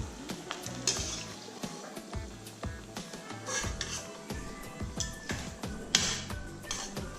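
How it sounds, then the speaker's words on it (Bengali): Fuchka puris deep-frying in hot oil, crackling and bubbling steadily while a utensil occasionally clinks and scrapes against the pan, fairly quiet and close. "আমি আরও কিছু ফুচকা ভেজে আপনাদের দেখিয়ে দিচ্ছি"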